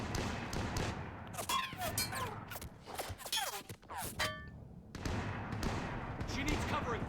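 Covering gunfire in the video game Mass Effect 3: bursts of shots and impacts come in a loud, busy stretch, then a brief lull, then more firing, with voices talking throughout.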